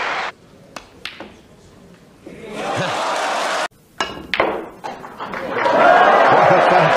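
A vast audience at a snooker trick-shot exhibition bursts into cheering and applause in two loud swells, broken by sharp clicks of balls and a commentator talking.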